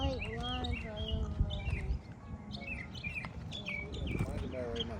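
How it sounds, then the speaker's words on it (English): A mockingbird sings along a nature trail in Midlothian, Texas, with varied repeated chirps and whistled phrases at moderate distance over steady outdoor background noise. "My guess is that it's a mockingbird"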